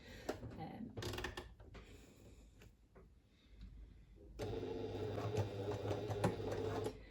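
A sewing machine bastes fabric pieces of a circular pouch, running in two bursts of steady rapid stitching with a pause of quieter handling between, close and fairly loud.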